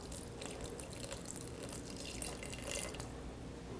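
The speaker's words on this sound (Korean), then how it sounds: "이 대추 우린물을 2컵 반 넣어주시면 돼요" Jujube-steeped water pours steadily into a pot of glutinous rice for yakbap, a continuous close trickling and splashing with no talk.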